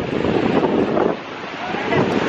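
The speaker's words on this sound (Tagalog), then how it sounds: "That's the Golden Waterfall." Rushing water at the Golden Waterfall in Taiwan makes a loud, continuous broadband wash, close and dense, dipping slightly midway before swelling again.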